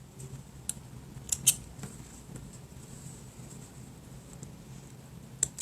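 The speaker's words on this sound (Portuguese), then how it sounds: "Agora, nós só precisamos cortar essas linhas." Scissors snipping loose threads on a sewn cloth 3D face mask, a handful of short crisp clicks scattered across a quiet room, close and fairly faint.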